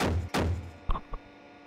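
A CV9035 infantry fighting vehicle's autocannon fires two heavy, booming shots in quick succession with a deep rumbling tail, followed by a couple of duller mechanical thunks, then fading quiet.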